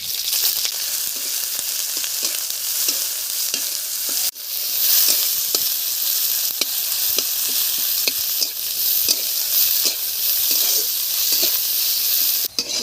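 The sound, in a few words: onion frying in oil with dried chili and cumin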